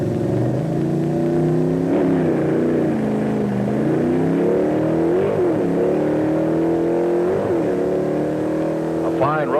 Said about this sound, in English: A fine road racing driver, Dick handles his Hurst-equipped Olds super stock over the quarter mile like a veteran